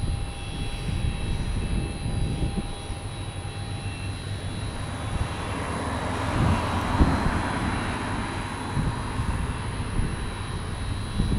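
A pink passenger jet on final approach at Tampa International Airport, its engine roar a steady broadband rumble held at moderate loudness throughout, with no voices.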